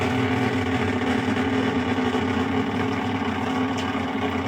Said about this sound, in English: That terrible sound is the pump vibrating on a bucket.